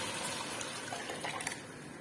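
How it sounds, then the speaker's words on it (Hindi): Water left from boiling white chickpeas is poured into a pot of rice for chana pulao, a close, steady gushing pour that lasts about two seconds with no talk. "मैं वो पानी इसमें डाल दूंगी"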